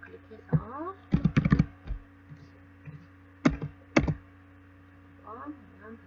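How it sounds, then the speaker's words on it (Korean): A computer keyboard and mouse in use while working in Photoshop: irregular bursts of sharp, close clicks and key taps with quiet gaps between, and a voice faintly in the background. "마우스와 키보드 같이 사용하실 때는 마우스에서 먼저 손 떼고 키보드는 나중에 떼주셔야 돼요"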